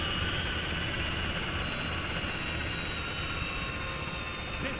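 A helicopter arrives in a video game, its steady, dense rotor and engine roar filling the scene at high, constant loudness.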